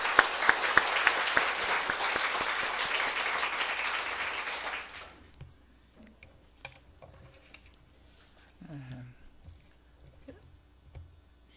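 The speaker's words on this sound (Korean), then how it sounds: "우리 한번 또 환영과 감사와 축복의 박수를 한번 하십시다." A church congregation applauding to welcome first-time visitors, dense clapping for about five seconds that stops abruptly, leaving quiet room noise with faint scattered sounds.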